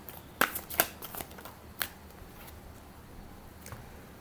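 Tarot cards shuffled and a card drawn from the deck, heard close and soft as quick riffling slaps and a few crisp snaps followed by faint handling, with no talk.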